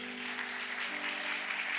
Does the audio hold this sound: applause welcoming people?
yes